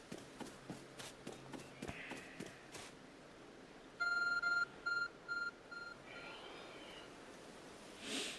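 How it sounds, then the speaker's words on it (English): A phone-like glowing object in Pokemon Legends Arceus gives off a short series of clipped electronic beeps in uneven pulses, after soft in-game footsteps and with no talk. "There's a glowing, beeping object over there."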